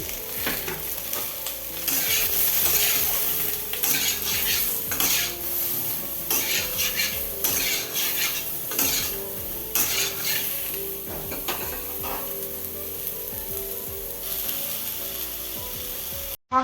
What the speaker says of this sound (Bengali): একটু অল্প পরিমাণ নুন, আর একটু অল্প পরিমাণ কাশ্মীরি লঙ্কার গুঁড়ো দিয়ে পটলটাকে ভেজে নিচ্ছি।